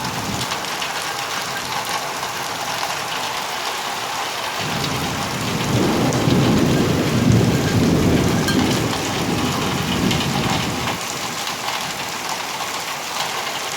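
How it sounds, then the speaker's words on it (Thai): Heavy rain pours steadily throughout, swelling into a louder, denser downpour midway with a deep rumbling roar beneath it, no voices. "นานๆเจอฝนทีนะ"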